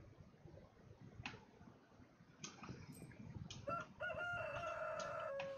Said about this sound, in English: We have a rooster?